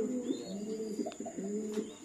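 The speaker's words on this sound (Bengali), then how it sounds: "অনেক সুন্দর সুন্দর কবুতর" Pigeons, including Lahori and Gola breeds, coo in soft repeated low phrases close by, with a couple of faint higher chirps over quiet background.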